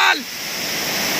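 Rushing water from the waterfall at Amboli makes a steady broadband roar after a short burst of voice at the very start.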